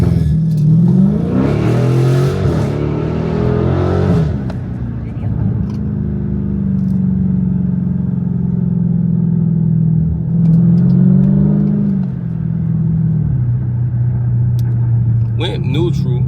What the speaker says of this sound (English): Went neutral, got out of neutral, hit the gas